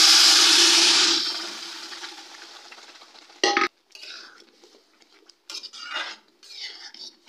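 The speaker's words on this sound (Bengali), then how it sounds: "এবারে সেদ্ধ করে নেওয়া ডালটার মধ্যে দিয়ে দিচ্ছি।" A mustard-oil tempering of dry red chilies, cumin and asafoetida hits boiled dal with a loud hissing burst that fades over a few seconds, followed by scattered clinks and scrapes of a spoon stirring in a pot.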